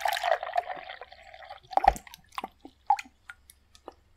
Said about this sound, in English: I'll mix it with this water I brought all the way from Fontaine until it becomes a paste.